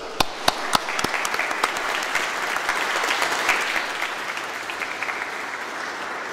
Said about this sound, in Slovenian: Mislim, da so dekleta zaslužila en aplavz.